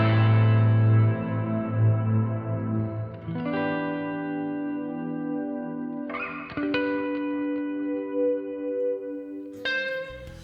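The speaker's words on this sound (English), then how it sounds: "I press and hold the control foot switch, it now acts as a freeze function for the reverb." A NUX MG30 guitar multi-effects unit plays sustained guitar chords through its reverb freeze effect, each chord held as a dense, unbroken shimmering wash that jumps to a new held chord at intervals, with no talking.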